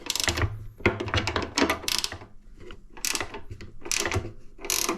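A 13 mm wrench loosens the shoe bolts on a 26-inch Cub Cadet snowblower, giving a close series of quick metallic ratcheting bursts and clicks in uneven groups, with no talking.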